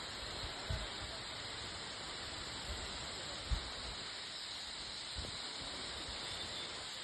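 A waterfall makes a faint, steady rushing hiss, heard from a distance, with a few soft knocks nearby.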